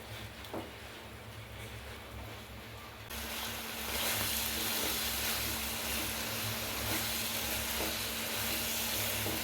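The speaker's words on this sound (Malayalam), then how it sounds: "അപ്പം ഞാനത് ചട്ടിയിലേക്ക് ഇട്ടിട്ടുണ്ട്. ഇതിൻ്റെ വെള്ളം നന്നായി വറ്റട്ടെ." Potty (tripe) masala sizzles steadily in a pan as its water cooks off, a dense, even hiss that grows louder and fuller after a few seconds and continues without pause.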